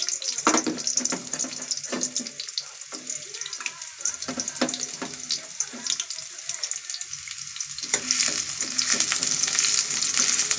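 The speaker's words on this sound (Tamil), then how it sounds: "எண்ணெய் சூடாயிட்டு நம்ம வெட்டி வச்ச வெங்காயத்தை சேர்த்துக்கலாம்" Chopped onions frying in hot oil for a drumstick curry, giving a steady, close sizzle broken by scattered clacks of stirring, with no talking.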